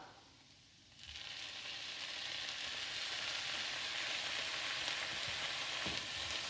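Egg is poured into a hot pan with chopped chapathi for egg kothu chapathi. After a quieter second the pan jumps to a loud, steady, crackling sizzle that holds to the end, with a faint clink of utensils near the close.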